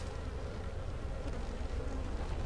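A low, dense buzzing of a small swarm of honey bees, continuous and close, with no voices.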